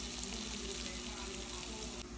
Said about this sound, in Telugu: ఇప్పుడు ఈ పోపు ఇందులో వేస్తున్నాను. నేతిలో వేసిన పులిహోర పోపు.